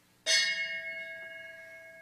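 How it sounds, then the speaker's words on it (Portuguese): A beadle strikes a hand bell once to end a meeting at a study group in a café. The clear metallic clang rings out and then hums in a long, steady, slowly fading sustain. "aqui o nosso Bedel deveria ter tocado o sino às 11 horas"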